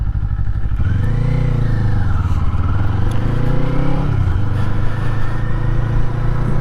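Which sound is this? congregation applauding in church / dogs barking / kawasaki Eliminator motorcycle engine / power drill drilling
kawasaki Eliminator motorcycle engine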